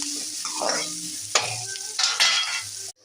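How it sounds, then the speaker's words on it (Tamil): Curry leaves fry in a pan for sambar with a loud, dense sizzle, broken by spoon scrapes and stirring bursts before it cuts off abruptly. "கொஞ்சம் கருவேப்பிலை போட்டுக்கோம் நல்லா வதக்கிக்கலாம்"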